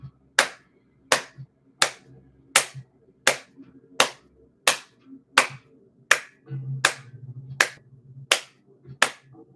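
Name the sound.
hands clapping together hard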